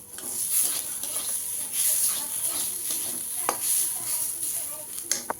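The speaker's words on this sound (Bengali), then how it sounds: "দেখো বন্ধুরা ডালটাকে ভাজা ভাজা করছি একটু লাল লাল হয়ে আসবে" Washed dal frying in hot oil in a wok gives a steady close sizzle, with a few sharp stirring clicks and scrapes against the pan.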